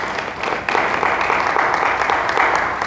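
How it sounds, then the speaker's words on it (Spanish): A church congregation clapping for Jesus Christ during a sermon, a steady, moderately loud wash of hands that continues through the whole stretch with no voices over it. "Dale fuerte las palmas a nuestro Señor Jesucristo."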